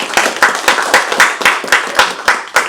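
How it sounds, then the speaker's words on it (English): An audience at an evening Python, Ruby and JS tech meetup claps for a speaker, a small group giving close, loud, slightly rhythmic applause with regular clap peaks, with no talk over it. "So if everyone can give a warm round of applause for Alex."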